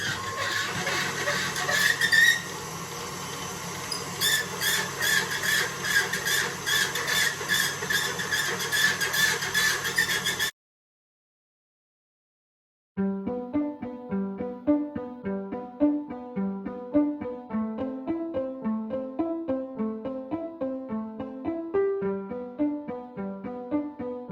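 A machine rolls fresh homemade pasta dough, giving a rhythmic mechanical whirring and squeaking for about ten seconds, then silence, followed by a patterned, music-like stretch.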